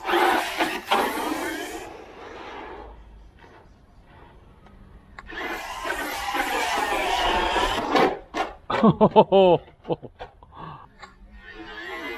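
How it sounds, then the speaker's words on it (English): An XLF X04A RC car on a 2S LiPo whirs up from a standing start with rising electric motor whine, loud and close, then pops a wheelie into a rapid flurry of clattering bumps and spins. "I just want to show you how it does from a standing start, some good wheelies on the 2S"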